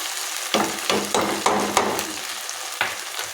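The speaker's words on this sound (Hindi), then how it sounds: "पहले मैं इसे मिक्स करूँगी" Potatoes and green onions frying in a pan are stirred in a run of close scraping strokes over a steady sizzle, with no talking.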